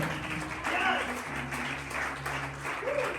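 A church congregation claps in a steady, sustained burst of applause, with voices and a low tone carrying under the clapping throughout.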